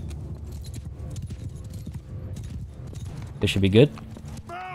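Cavalry and horse archer hooves clatter during a Mount & Blade II: Bannerlord battle, a steady rapid clip-clop beneath ongoing talk, with a louder metallic jingle near the end.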